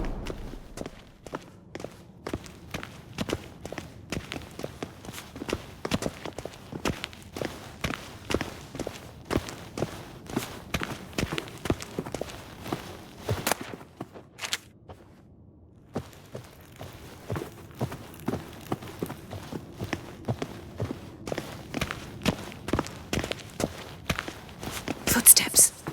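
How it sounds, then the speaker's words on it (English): Footsteps in The Witcher 3: Wild Hunt, a long steady series of soft, close steps pacing along with only a short pause partway through, sometimes overlaid by voices talking. "Footsteps."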